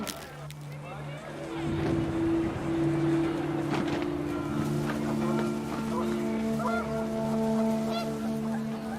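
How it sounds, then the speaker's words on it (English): Panicked geese honk in the video game What Remains of Edith Finch as wind picks up outdoors, a tangle of calls over sustained tonal music, with a narrator speaking throughout. "panicked geese appeared and quickly went"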